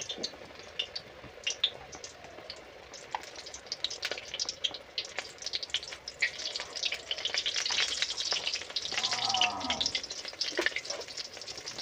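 Gram-flour-battered pui leaves frying in oil in a kadai, with a steady close sizzle and crackle that swells louder toward the end, along with a brief clink of a utensil.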